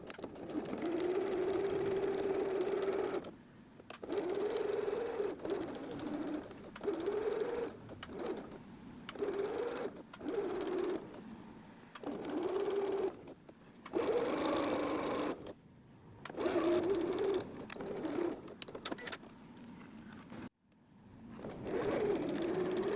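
Sewing machine stitching the curved hems of a tea towel apron, running in repeated steady bursts of motor whir with short pauses between, close and clear with no talking.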